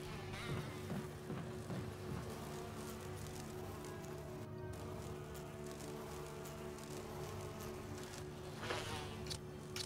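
Bees buzz in the video game Resident Evil REmastered, a continuous insect drone steady throughout with faint game ambience beneath, a short dip near the middle and a brighter rise toward the end.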